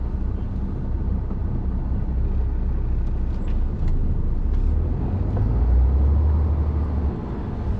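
A car drives along a road, a loud steady engine and tyre rumble close by, with a deeper swell of passing traffic near the end and no talking.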